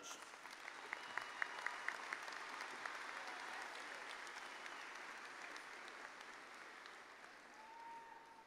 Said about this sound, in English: Please honor these graduates with a round of applause.